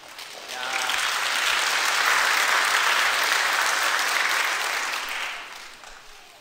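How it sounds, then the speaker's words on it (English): Applause fills the church during an Easter Sunday worship service, building from a moderate start to a broad, sustained peak, then fading away toward the end. "Applause to our King"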